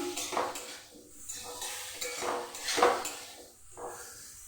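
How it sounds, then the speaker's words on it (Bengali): Pointed gourd and potatoes being lightly fried with spices in ghee, a utensil scraping and clattering against the pan in uneven bursts, close and moderately loud, with no talk. "ভালোভাবে একটু মশলার সঙ্গে পটল আলুকে হালকাভাবে ভেজে নিচ্ছি।"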